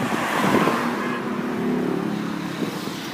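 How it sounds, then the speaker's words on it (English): Cars drive past on a street in Beijing, a steady rolling engine and tyre rumble that swells and fades over a continuous traffic background, with no talking. "Here comes a car without lights on. And here comes some cars."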